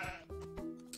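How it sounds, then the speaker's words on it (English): Sheep bleating in the video game Age of Empires II, a short, close, nasal baa with wavering pitch lasting about a second, heard alone. "Oh, it's a sheep."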